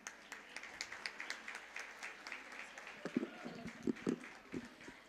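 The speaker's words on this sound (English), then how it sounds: "They deserve a huge round of applause." Scattered clapping from a graduation-ceremony audience follows a prayer. Individual claps are moderately quiet and irregular, and voices and sharper thumps join in during the latter half.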